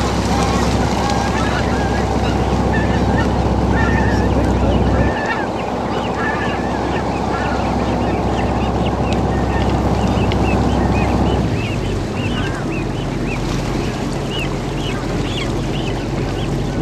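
Geese honk repeatedly amid a busy, noisy outdoor scene, with wind and background rumble and occasional voices mixed in.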